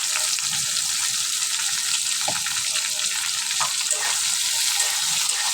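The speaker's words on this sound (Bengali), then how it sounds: "এখানে আগে পেঁয়াজ কাঁচা ঝাল তেলে ভাজি করে নিতে আছি।" Sliced onion and green chili sizzle in hot oil at the start of a Bengali hilsa fish bhuna: a steady, close, loud frying hiss with a few faint stirring clinks, and no talking.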